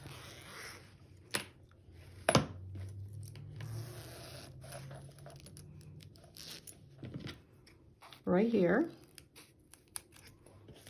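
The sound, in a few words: cutting zipper tape apart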